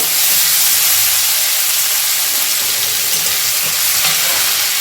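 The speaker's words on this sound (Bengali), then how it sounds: "কষে নেব একসঙ্গে সমস্ত কিছু।" Potato curry ingredients with grated ginger sauté in a pan, giving a loud steady sizzle and hiss with faint stirring throughout, without speech.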